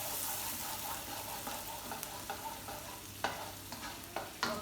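Garlic frying over medium-low flame while being stirred, a quiet hiss with scattered scraping and tapping of a utensil against the pan, close and with no speech.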